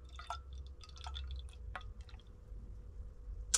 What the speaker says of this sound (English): let's pour her out